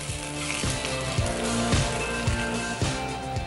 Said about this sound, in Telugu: వేసేసుకొని ఇది కూడా ఇలాగే రంగు వచ్చేంత వరకు ఫ్రై చేసుకుందాం.